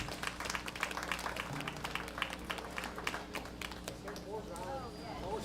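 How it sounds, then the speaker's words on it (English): Applause for exhibitors at a junior livestock show, a dense steady patter of clapping in an arena that fades toward the end as a voice speaks. "Let's give them a round of applause."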